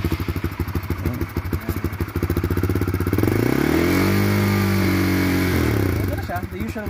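A single-cylinder Honda CB150X motorcycle engine thumps at idle, then revs up into a sustained drone and eases back down, loud and close.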